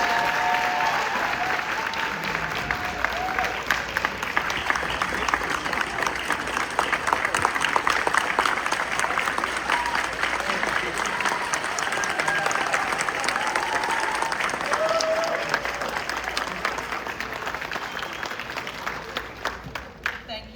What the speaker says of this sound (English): let's give all of our award recipients a round of applause. Let's give them a standing ovation.